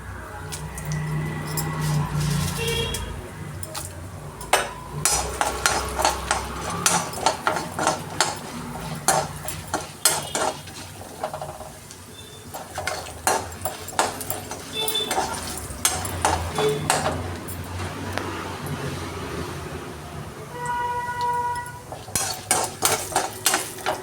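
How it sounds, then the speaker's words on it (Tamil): Mustard seeds, chana dal and urad dal fry in a pan while a utensil stirs and scrapes, with repeated clinks and scrapes over a soft sizzle and a brief, quiet voice in places. "கடுகு பொரிஞ்ச உடனே கடலைப்பருப்பு உளுத்தம்பருப்பு போட்டு நல்லா செவக்கட்டும்"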